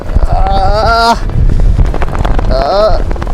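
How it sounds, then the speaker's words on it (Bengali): Strong storm wind at a helipad in Sajek Valley, Bangladesh, roars and buffets the microphone in a steady low rumble, with voices calling out over it. "হেলিপ্যাডে ঝড়ে আমার ছাতা উড়ে গেল এবং সম্মুখীন হলাম প্রচুর পরিমাণ বাতাসের সাথে"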